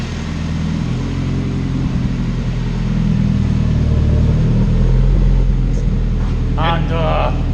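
A turbocharged Honda CR-V engine rumbles deep and steady through its exhaust, swelling slightly midway, with voices faintly audible toward the end.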